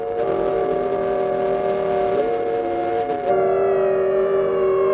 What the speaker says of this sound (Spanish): La CNT hace sonar las sirenas de las fábricas y del puerto